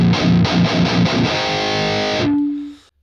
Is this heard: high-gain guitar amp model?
yes